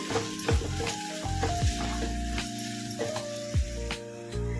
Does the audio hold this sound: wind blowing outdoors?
no